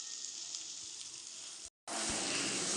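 Prawns fry in hot oil for a Telugu-style curry with tender tamarind leaves, giving a loud, steady, close hiss of sizzling that cuts out for a split second and then resumes.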